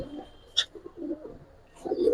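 Soft cooing of Giribaz pigeons, a few low murmuring calls close by, with a brief sharp chirp or click in between.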